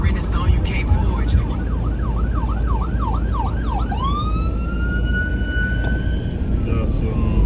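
An ambulance siren wails in rapid up-and-down yelps, then shifts into a long rising and falling wail, clear and fairly near over road noise.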